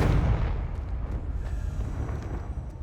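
A Confringo fire spell blast erupts in the Hogwarts Legacy game, a loud booming explosion at the start that rumbles and decays over a few seconds.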